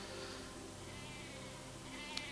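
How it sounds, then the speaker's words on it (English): Sheep in the game Shroud of the Avatar bleat loudly and steadily over a noisy outdoor ambience, the bleats running continuously through the short stretch with one sharp click near the end. "Rather loud, rather noisy sheep."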